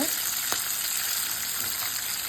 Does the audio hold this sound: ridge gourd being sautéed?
yes